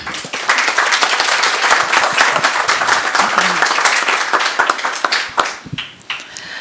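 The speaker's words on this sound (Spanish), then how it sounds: "si nos hacen el honor de brindarle un fuerte aplauso" A room full of people at a legal lecture applauds loudly and steadily for several seconds, the clapping thinning out and tapering off near the end.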